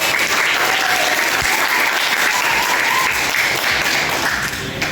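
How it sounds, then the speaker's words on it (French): Children clapping together for a classmate at a school celebration of World Children's Day, loud, close and continuous crowd applause filling the whole stretch and tapering slightly at the end. "Bravo Farida, applaudissez"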